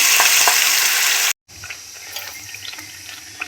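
Ground paste and curry leaves hit a hot pan for a dhaba-style paneer curry, a loud broad frying sizzle that cuts off abruptly, then a quieter bubbling crackle with small pops continues.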